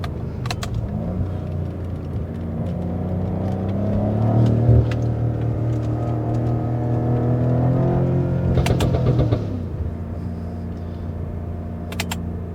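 BMW M5 driven hard along the Tail of the Dragon mountain road, its engine loud and close, droning and rising through revs with a steady rumble and tire noise, with no talk over it.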